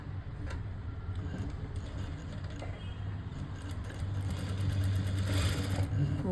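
A sewing machine stitching a plain blouse, running in a steady mechanical whir with light rattling, growing a little louder and faster toward the end, with no voices.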